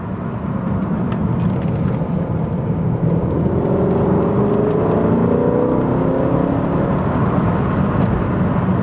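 A car fitted with an aftermarket sports exhaust revs steadily and loudly, a deep continuous drone with rising and falling engine tones, heard close with no talking.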